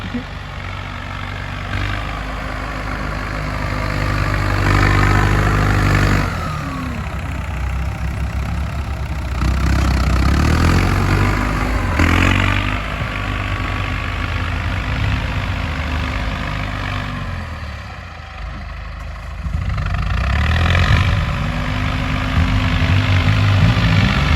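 A Ford 6810 tractor engine idles with a steady low rumble and faint revving swells, close by and continuous, with no voices.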